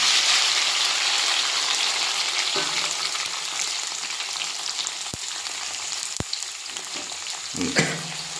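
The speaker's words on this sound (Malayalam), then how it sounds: "ഇനി നമ്മൾ അതിലേക്ക് ഈ അരിഞ്ഞു വെച്ചിരിക്കുന്ന നമ്മുടെ സബോളയും അതുപോലെ തക്കാളിയും അതിലേക്ക് നമ്മൾ ഇടണം" Chopped onions and tomatoes fry in a hot pan for onion chammanthi, giving a steady close sizzle with a few sharp clicks and stirring scrapes near the end, no talking.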